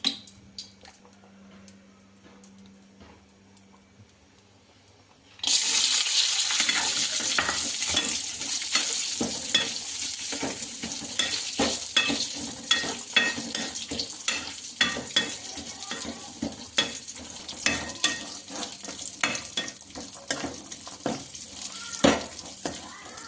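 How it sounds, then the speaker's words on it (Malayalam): Ghee being stirred into pongal payasam in a hot pan, starting quietly and then breaking into a steady, close sizzle with repeated scraping strokes that runs for the rest of the clip, no voices. "ഇനി നമ്മൾ ഈ ബാലൻസ് ഉള്ള നെയ്യ് കുത്തിയൊന്ന് ഇളക്കും"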